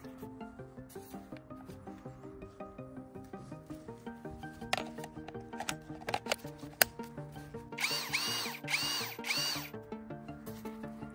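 Parkside Performance PSBSAP 20-Li C3 cordless hammer drill running, with a regular pulsing mechanical beat and then a brief louder whirring burst near the end, close by.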